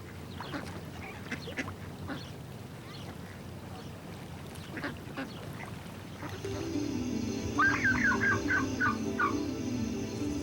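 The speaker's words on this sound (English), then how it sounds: "Migrating wild ducks find Lake Powell an inviting stopover." Migrating wild ducks quack at Lake Powell in canyon country, a run of rapid, clear calls rising over a low outdoor rumble after scattered fainter sounds earlier.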